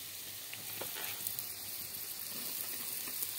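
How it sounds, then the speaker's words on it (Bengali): Vegetables for chow mein frying in a pan, a steady close sizzle with faint stirring scrapes and no voices. "চাউমিন ভাজার জন্য একটু সবজিটা একটু ভেজে নিচ্ছি"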